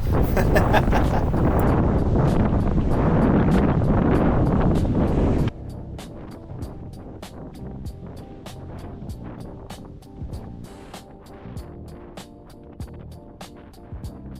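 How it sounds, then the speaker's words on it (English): Strong wind gusts buffeting the microphone on an open stretch of the Te Araroa hiking trail, a loud roaring blast that suddenly drops to a lower, steadier rumble with scattered bumps. "the next day there's lots of wind, so protect your ears if you're wearing headphones"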